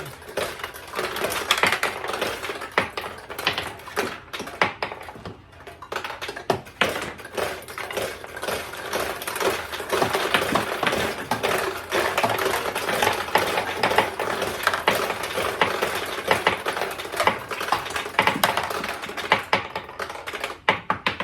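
A 1975 Sanyo Comet II vintage pachinko parlor machine fires balls in a dense, continuous rattle of rapid metallic clicks and taps, steady and close throughout.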